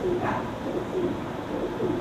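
A pigeon coos softly in a repeated low rhythm, several calls close by over a steady background hum.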